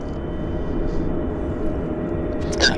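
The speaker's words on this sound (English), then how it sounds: "So that's the WestJet Cabo flight that's pulling out right now." A WestJet airliner bound for Cabo taxis out at Vancouver airport, its engines giving a steady, fairly loud broadband rumble and whine that holds throughout, with a brief brighter swell near the end.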